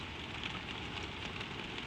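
Gentle rain falls in a soft, even hiss with fine scattered patter, faint and continuous, with no voices.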